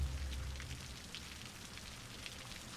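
Steady rain in the city-building game Cities: Skylines, a continuous broadband hiss of drops on surfaces with a low rumble at the start, even and moderately loud throughout with no voices.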